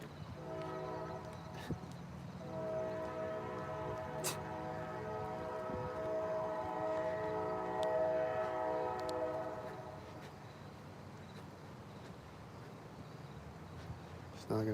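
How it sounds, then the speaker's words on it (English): A train horn blares in sustained harmonic tones for several seconds, heard at moderate distance outdoors near a house, then dies away into quieter background rumble. "The train horn keeps stalking me."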